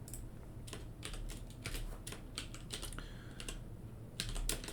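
Password keystrokes tapped out on a computer keyboard, a quick irregular string of light clicks in bursts with short pauses, fairly close and alone without talk.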